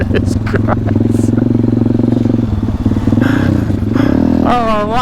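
KTM 250 SX two-stroke dirt bike engine, loud and close, a buzzy steady drone that rises in pitch near the end, with a few clattering knocks early on.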